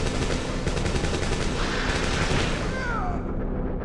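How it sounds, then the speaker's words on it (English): Dense, continuous gunfire from the survival horror game Dino Crisis roars loudly and without pause, blending into a thick barrage of shots and booms that cuts off abruptly at the end. "hears gunfire followed by more concerning sounds"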